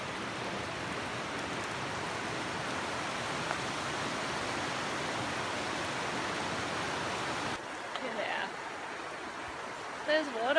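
Steady, dense rushing water roars without a break for several seconds, then drops to a quieter wash with faint rustling and handling noise near the end.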